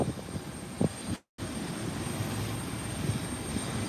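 A United Boeing 737 MAX at Howard Hamilton International Airport gives a steady, broad engine roar, loud and continuous, with a momentary dropout in the sound.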